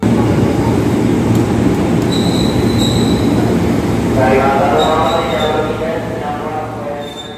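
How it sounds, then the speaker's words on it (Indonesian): A loud KRL commuter train bound for Tanah Abang rumbles into a Jakarta-area station, steady heavy roar with brief high squeals of wheels and brakes, close at hand, easing off toward the end. "Saya lagi nunggu KRL jurusan Tanah Abang yang datang dari arah kiri."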